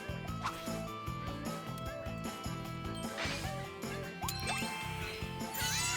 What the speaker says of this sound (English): You hear that onion? That's right. There's an onion bird nearby.